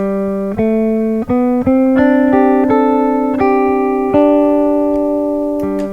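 Guitar loop recorded on a Line 6 DL4 delay looper: clean picked notes over a steady held low note, repeating in an even pulse with bright sustained harmonics, loud and close with no voices.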